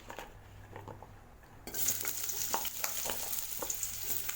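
Bitter gourd slices sizzle and fry in hot oil in a kadai over low flame, a steady crackle that jumps louder partway through, with occasional stirring clinks from the pan.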